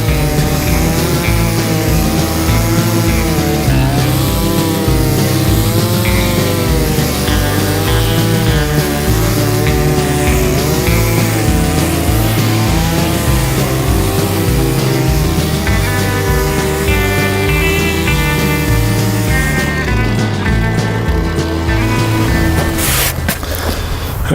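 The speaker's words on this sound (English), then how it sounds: "And I'll mix that up with the tiller." A garden tiller churns and mixes soil in a potato bed, its engine running loud and continuous with a rhythmic chugging and shifting pitch as the tines work the ground.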